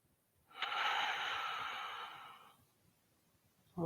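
A single slow, deep breath during a yoga session, a long airy exhale lasting about two seconds that tapers off, close and quiet, with another breath starting at the end.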